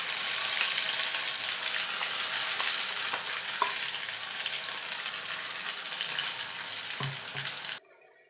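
Ground cauliflower-leaf paste sizzles in a hot pan with a loud, even hiss and crackle and a few small clicks, close up, before cutting off abruptly just before the end; no one speaks.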